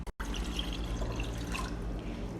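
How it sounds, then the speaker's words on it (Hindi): About two cups of water pouring into a saucepan, a continuous close splashing stream after a brief cutout at the very start, with no talk. "उसके अंदर मैं ऑलमोस्ट 2 कप्स पानी यानी कि 400 ml वाटर ऐड"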